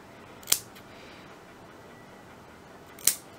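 Scissors snipping a cotton wick for a vape coil build on an Origen V.2 rebuildable atomizer, two crisp separate snips about two and a half seconds apart against a quiet background.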